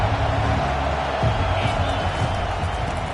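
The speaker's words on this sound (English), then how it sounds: "This crowd bringing an ear-splitting welcome to their visitors." A stadium crowd at an early-season top-25 college football game in Georgia gives visitors a loud welcome, a dense, steady roar under a commentator's voice.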